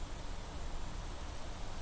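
Steady, dense rain hisses without a break in the Planet Crafter video game, an even wash of falling drops with no other sounds over it.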